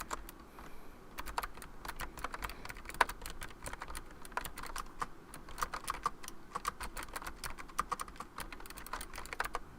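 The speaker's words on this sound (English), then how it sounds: "Now there is a bit of a click on the free write. So like if you can hear that." Rapid, continuous key clicks from typing on a Freewrite device keyboard, close and fairly quiet, an uneven clacking rhythm with no talking.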